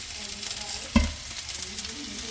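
Curry leaves frying with cumin, coriander seeds and fenugreek in hot oil, a continuous close sizzle with one sharp clink of a utensil against the pan near the middle.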